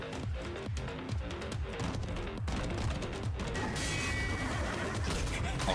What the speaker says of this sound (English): Is that thing a horse? Why are you neighing at me like that?